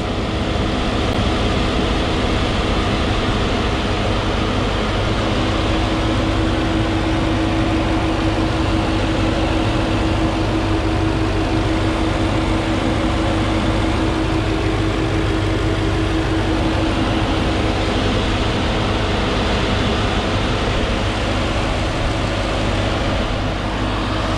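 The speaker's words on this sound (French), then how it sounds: "Et voilà la prépa moteur ABT Power Air." An Audi ABT RS6-R from 2020 with ABT Power Air engine tuning runs steadily, giving a constant, close, low rumble that holds unchanged the whole time.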